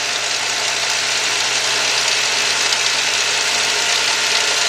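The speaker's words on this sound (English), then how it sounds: "Well, it's rattling now, guys, and probably when the idle goes down," A Chrysler Sebring engine idles with a timing chain and tensioner fault, a loud, steady mechanical rattle and whirring hum from the front timing cover area, continuous throughout with no speech.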